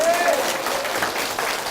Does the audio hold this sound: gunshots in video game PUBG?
no